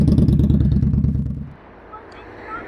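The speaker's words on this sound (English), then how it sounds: "Go on, give it a wee rev." A motorcycle engine revs loud and close with a throbbing, pulsing roar for about a second and a half, then drops away abruptly to quieter background noise with a few faint squeaks.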